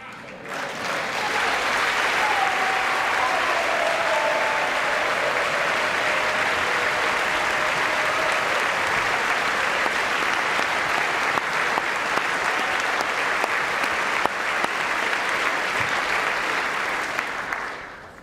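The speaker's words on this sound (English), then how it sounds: "so they applauded. Kind of unenthusiastic, polite applause" Polite, rather unenthusiastic applause from a large audience at a State of the Union address: a dense, even clapping that holds steady for well over fifteen seconds before tapering off.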